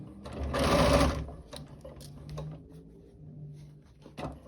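A sewing machine stitching an invisible zipper, whirring close up in one loud burst of about half a second, followed by quiet clicks and fabric handling with faint brief sounds.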